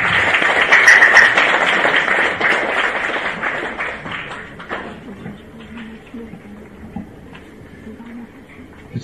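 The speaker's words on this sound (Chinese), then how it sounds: "那么我们还是热烈掌声有请清华大学历史系教授秦辉老师，还有咱们北京大学历史系教授黄英先生，有请。" An audience at a university history lecture applauds to welcome two professors, with dense, loud clapping that gradually fades over several seconds into a quiet room.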